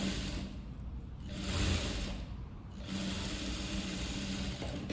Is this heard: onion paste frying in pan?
no